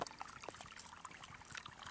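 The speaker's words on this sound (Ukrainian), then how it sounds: "проливаємо, заливаємо водою" Water is poured onto a newly planted apple sapling on M-26 rootstock, trickling and gurgling into the soil in a faint, close, uneven splash and dribble without talk.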